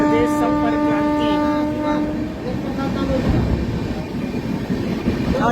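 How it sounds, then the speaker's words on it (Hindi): An Uttar Pradesh Sampark Kranti express train sounds a loud sustained horn blast while being overtaken between Mathura and Agra Cantt, then fades into a close, rumbling clatter of passing coaches. "उत्तर प्रदेश संपर्क क्रांति को हमने पीछे छोड़ दिया।"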